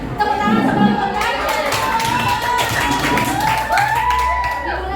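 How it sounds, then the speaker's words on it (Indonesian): A classroom group claps hands together before an activity starts, a steady, close patter of many hands with voices mixed in throughout. "Dimulai dari tepuk tangan sebelum mulai"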